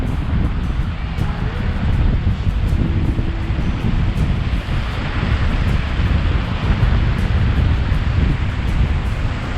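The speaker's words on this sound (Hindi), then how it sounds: "ऊपर से पानी आ रहा है।" A mountain river on a high Himalayan trek rushes beneath a footbridge, a loud, continuous roar of flowing water with wind buffeting the microphone.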